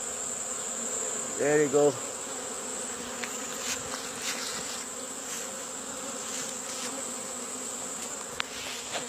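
Steady, dense buzzing of many honeybees swarming around a Kenyan top bar beehive, close and continuous, with a brief spoken phrase early on.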